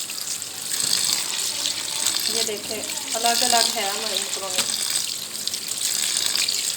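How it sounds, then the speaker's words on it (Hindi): Cold water poured over cooked macaroni and chicken in a pan, a continuous splashing and running-water wash heard close, with someone speaking over part of it. "अब इसमें डालेंगे ऊपर ठंडा पानी।"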